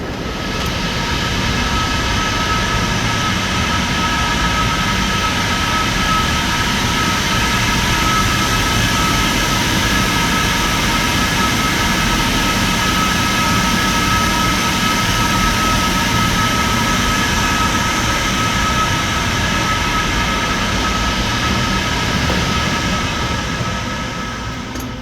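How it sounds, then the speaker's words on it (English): Aeration blowers at a wastewater treatment plant's headworks, housed in an indoor blower room, make a loud steady roar with constant droning tones that hold unchanged throughout. "Those were our blowers, and what those do is they provide air out to our basins to allow for aeration"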